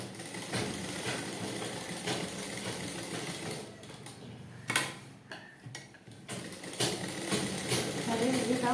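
A sewing machine stitches blouse fabric in a steady, fast ticking run, pausing briefly midway with a few clicks before resuming, close and moderately quiet.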